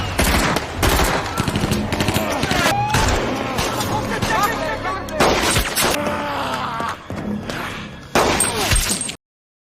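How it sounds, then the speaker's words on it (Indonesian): Rapid bursts of gunfire crackle in a film scene at a harbour warehouse, loud repeated shots mixed with shattering, shouting voices and dramatic sound effects, ending abruptly. "Joachim menghadiahi pria bengal itu dengan tembakan"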